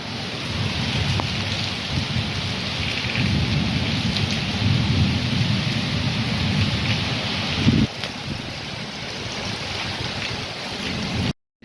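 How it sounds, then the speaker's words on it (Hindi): A summer afternoon thunderstorm brings heavy, steady rain with a constant roar and rolling low thunder throughout. A brief knock sounds near the end, and there is no speech. "अभी देखो काल की झड़ उठा है और क्या ही तूफान हो रहा"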